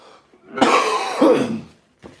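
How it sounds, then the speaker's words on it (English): A single close, rough cough in two harsh bursts, followed by a short quiet breath. "Gonna cough."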